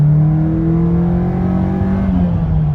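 A 1991 Nissan Sentra SE-R at wide-open throttle, its engine drone rising steadily and loud in the cabin, continuous with no talk over it.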